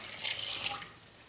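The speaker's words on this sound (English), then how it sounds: "add your water to the seasoning" Water is poured into a bowl of seasoning for duck summer sausage, making a brief splashing trickle that lasts under a second and then fades to quiet.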